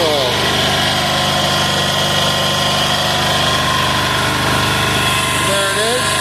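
A 186FA single-cylinder diesel engine running on used synthetic engine oil, warmed up and idling in a steady, loud, continuous drone with a faint higher whine drifting in near the end.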